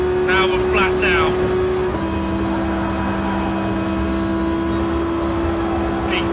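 Racing game car engine held at full throttle on the St Croix circuit, a steady sustained drone with a fixed tone that drops briefly as it shifts gear, plus faint talk near the start.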